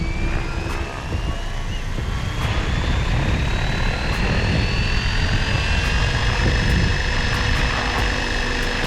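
Electric motor of a SAB Raw 700 RC helicopter spinning up, a steady loud whine with rising rotor tones that climb gradually and hold throughout, alone without voices.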